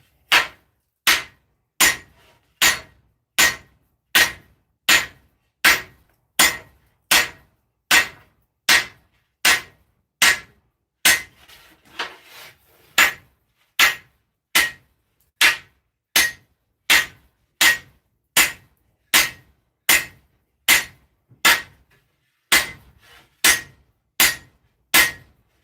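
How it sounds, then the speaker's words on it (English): Hammer forging a 7-foot sword blade: a long run of loud, evenly spaced metallic strikes about one per second, each ringing briefly, with a short pause midway before the steady hammering resumes. "Let's start the forging again."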